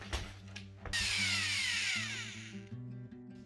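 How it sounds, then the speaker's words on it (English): A second-hand screw shooter drives screws into boards during attic carpentry work on a traditional Japanese structure: a sharp whirring power-tool burst with a descending whine and steady motor hum, close and loud, with no talking. "Specialist board installers often use a dedicated screw shooter tool for this kind of work."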